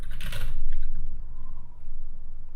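Computer keyboard keys tapped in a quick burst near the start, then a few lighter scattered clicks, close and fairly quiet with no voice over them.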